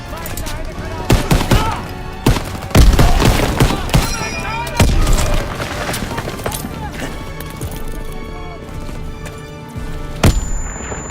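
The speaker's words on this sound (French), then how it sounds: "Impossible d'avancer si les mitrailleuses tirent sur notre position." Machine guns and rifles fire in a World War II battle in the Call of Duty WWII campaign, with dense overlapping bursts and loud booms throughout. Shouted voices come in under the gunfire.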